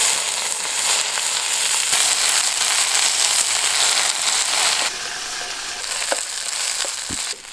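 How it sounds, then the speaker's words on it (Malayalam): Okra sautés in hot oil, a steady close sizzle and crackle with scattered pops and the occasional scrape of stirring, and no talking. "ആദ്യം വെണ്ടയ്ക്ക എണ്ണയിലിട്ട് വഴറ്റുക."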